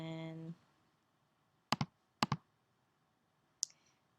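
Several sharp mouse clicks from using a Magic Wand selection tool, heard as two quick double-clicks and then a lone single click, close and crisp against near silence.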